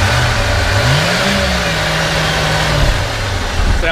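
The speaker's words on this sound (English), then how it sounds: "Go ahead and rev it up a little bit." Nearby revving of a 1990 Ford F250 XLT Lariat pickup engine: a loud, continuous drone that rises in a smooth swell and eases back down, then dips again near the end, with no one talking.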